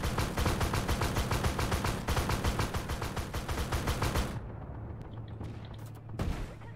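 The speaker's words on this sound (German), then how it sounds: "Ach, hör doch auf mich zu schießen." Rapid rhythmic automatic fire from a tank in the armored combat game Armored Warfare: a long steady burst of evenly spaced shots that stops abruptly, followed by a quieter rumble and a couple of isolated later bangs.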